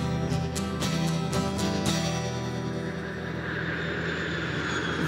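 An airplane engine drones steadily in flight, loud and continuous with a sustained humming tone that persists throughout without speech.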